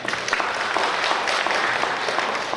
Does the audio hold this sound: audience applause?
yes